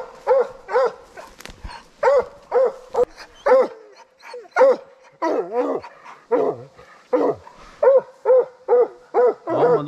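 Hunting dogs on a bear hunt bark in repeated loud, close yelps and bays, with barely a pause between them.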